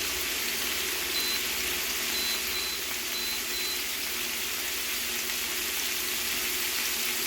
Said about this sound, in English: there goes the sizzle